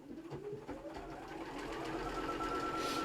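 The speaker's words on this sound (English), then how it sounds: "All I'm going to do now is just top stitch all the way around." A sewing machine top stitching around a fabric tray pouch, a steady close mechanical whir that runs without pause.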